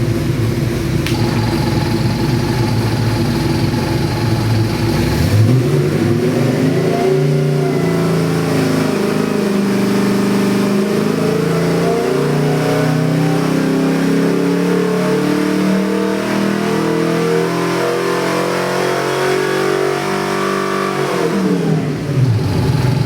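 A 383 cubic inch small-block Chevy stroker crate engine in a 1980 Toyota FJ45 idles, then revs up and holds a high, rising roar for several seconds before dropping back, loud and close, no voices.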